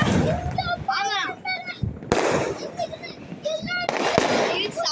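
Diwali firecrackers and sky shot fireworks burst repeatedly, with sharp cracks and booms scattered throughout, some near and some distant, while people talk and shout over them.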